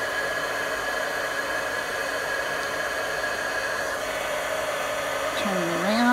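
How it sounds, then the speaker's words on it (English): A heat tool blows a steady whooshing stream of hot air as it melts copper embossing powder on a card, with a constant hum that rises slightly louder near the end. "And then I'll take my heat tool and heat it up just a bit. And then I'll just melt it."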